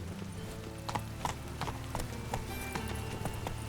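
Hooves of Roach, the horse in The Witcher 3, clip-clopping in an even, steady gait, close and fairly quiet, with faint background tones underneath.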